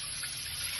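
Tap water running steadily over lamb neck meat being rinsed with vinegar in a kitchen, a brief close continuous splashing hiss with no talk.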